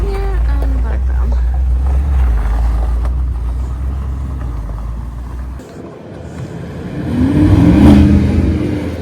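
An Audi R8 sports car being driven in a storm, with a steady low engine drone that dips briefly and then swells as it accelerates, wind noise across the microphone and a voice talking over it.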